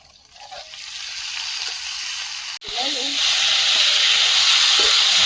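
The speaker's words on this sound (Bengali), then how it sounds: "ওই তেলে দিয়ে দিচ্ছি রসুন" Garlic dropped into hot oil in a pan bursts into a loud, steady sizzle and hiss that swells and continues, with a voice briefly audible underneath.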